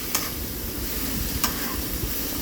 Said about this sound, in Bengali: এখন এই শাক কুচিটা দিয়ে দিব